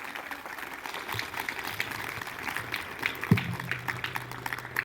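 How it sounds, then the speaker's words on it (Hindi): Meditation group clapping for themselves at the end of a session, a scattered patter of hands at moderate volume with a soft voice underneath. "खुद के लिए तालियां बजाइए"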